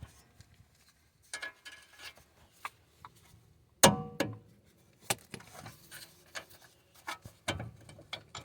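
Bolts are backed out on the front passenger CV axle of a 2009-2017 Chevy Equinox, producing scattered metallic clicks, ratcheting taps and one sharper clank, close by and fairly quiet, with no talking.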